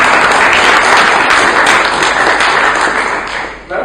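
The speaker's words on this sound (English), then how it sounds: "that was a round of applause for you," Loud, dense applause from an audience at a humanist society talk, steady clapping that fills the room close up and thins slightly toward the end.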